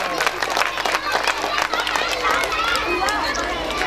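An audience claps and cheers for children after their performance at a school event, dense broadband clapping mixed with crowd chatter and voices, steady and fairly close for several seconds.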